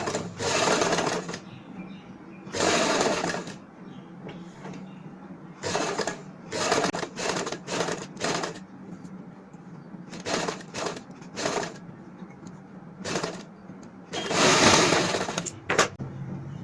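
A sewing machine stitches pleats into a salwar in short bursts of rapid mechanical whirring, starting and stopping many times with quiet pauses between runs, close and clear.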